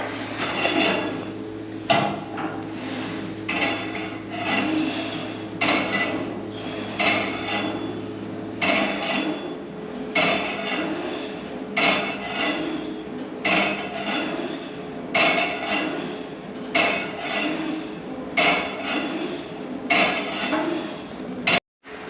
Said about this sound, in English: We have this machine here that we're gonna be using, the free motion machine.